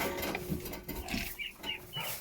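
Geese and ducks on a farm, giving short, scattered honks and squawks close by over a background of rustling and farmyard noise.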